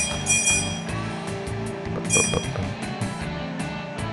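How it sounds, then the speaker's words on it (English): Bright glassy chimes ring out repeatedly as coins are collected in the Team Umizoomi Math Racer game, a quick run of clinks over a busy game music bed. "Tap the glowing coins to collect them."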